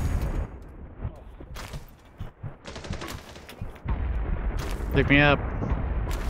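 Grenade blast and rapid gunfire in the shooter game BattleBit, loud bursts of automatic fire and booming explosion rolling under a player's voice.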